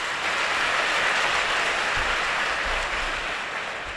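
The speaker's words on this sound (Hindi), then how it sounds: "इनके लिए तालियां" A seminar audience claps for a student standing to speak, a dense, steady wash of applause filling the room for a few seconds before gradually thinning.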